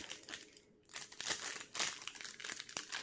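Plastic packaging around a brush from a Charles Bentley deluxe horse grooming kit crinkles and crackles close by in irregular bursts, with a brief quiet gap near the start, and nobody speaks.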